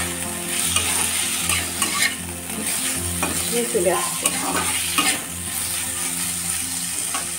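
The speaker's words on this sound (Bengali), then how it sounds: "আজকে এই ব্রোকলি ভাজা করেছি" Broccoli fries in a pan, sizzling steadily while a spatula stirs and scrapes it in repeated strokes; a few words are spoken briefly over the cooking.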